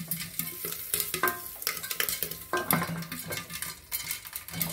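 White corn popcorn pops inside a pressure cooker, with sharp irregular pops and rattling knocks against the metal pot over a frying hiss, close and fairly busy, with no talking.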